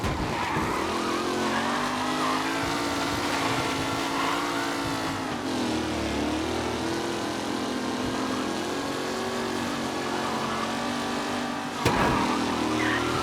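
Race cars competing in the video game Mafia: Definitive Edition, with steady, loud engine roar throughout and brief tyre squeal, plus a sharp burst near the end.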